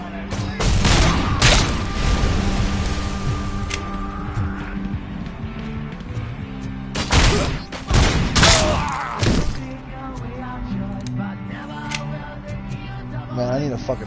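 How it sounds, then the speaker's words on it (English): Grenade blast and bursts of gunfire in RoboCop: Rogue City, heavy booms and rapid shots in several loud clusters over background music, with someone talking between the explosions. "Oh shit, grenade!"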